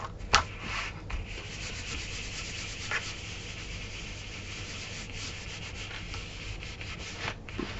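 A thick glued paper page pressed and rubbed down by hand onto a mini envelope album, giving a soft steady papery rubbing with a few light taps, close and quiet, no voices.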